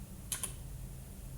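A couple of quick keystrokes on a computer keyboard while entering an AWK command in a Bash terminal, two faint close clicks over a low steady hum.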